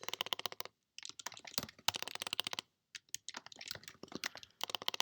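Rapid, irregular clatter of keys typed on a computer keyboard while entering code, close and clear, in quick bursts separated by short pauses.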